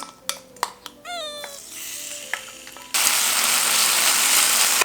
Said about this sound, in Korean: 양념해 놓은 고기 볶아줄게요